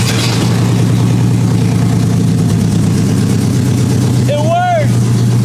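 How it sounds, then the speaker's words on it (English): A BMW E36 with a newly swapped manual transmission runs with a loud, rough, steady engine drone throughout, with a brief rising squeal near the end. "Let's try and start the car."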